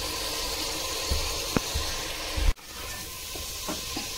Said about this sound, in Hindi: और थोड़ी देर तक हम इसे इस तरह से भून लेंगे